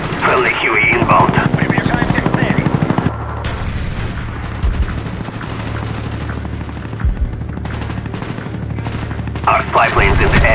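Huey helicopter support in Call of Duty: Black Ops during Team Deathmatch on Nuketown: a steady low rotor drone runs under repeated bursts of gunfire and occasional booms, with game voices mixed in.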